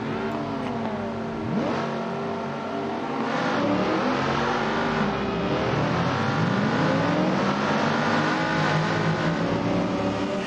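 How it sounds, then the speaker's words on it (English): Saloon race cars, including a Mustang, launching from the grid at the start of a British Saloon Car Championship round in the game Assetto Corsa, a loud layered roar of many engines revving and climbing through gears together. "as they are approaching the grid, let's get down for the start of the race."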